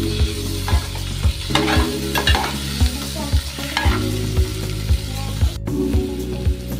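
Tomato goes into browned onions frying in a pan for a dhaba-style egg masala, with a steady sizzle under regular, rhythmic scraping strokes of a stirring spoon.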